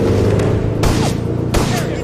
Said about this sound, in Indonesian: Saat anggota Eddie masuk, granat meledak.